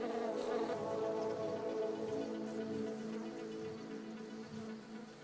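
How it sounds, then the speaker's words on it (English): A dragonfly's wings produce a steady, soft buzzing drone, close and continuous with slight swells in intensity, no voices. "The dainty dragonfly is one of the most brutal and effective predators in the animal kingdom"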